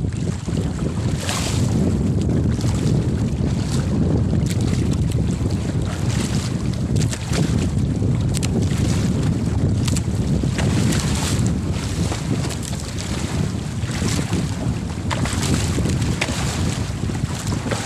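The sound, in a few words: strong wind at sea on a boat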